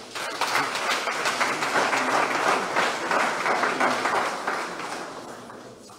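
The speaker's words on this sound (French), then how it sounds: "Sous vos applaudissements, s'il vous plaît." Steady, dense applause from a large congregation at a religious service, sustained for several seconds before tapering off.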